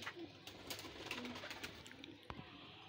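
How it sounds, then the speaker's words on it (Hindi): A pair of golden pigeons coos softly at close range in short repeated calls, with faint background noise. "प्योर गोल्डन कबूतर है"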